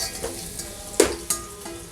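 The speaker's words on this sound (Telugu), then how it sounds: "ఇలాగా ఒక 2 నిమిషాలు వేయించుకోవాలి" Spices and dried kasuri methi leaves fry in a pan, sizzling steadily while a utensil stirs them, with a couple of sharp metallic clinks against the pan.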